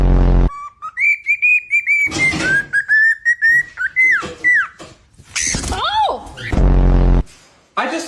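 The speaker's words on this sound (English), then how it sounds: "I just love my new pet parrot." A pet parrot with red wings gives loud, close whistles and calls: rising and falling tonal whistles, rapid chirps and squawky notes in a busy burst, with harsh noise at the start and end.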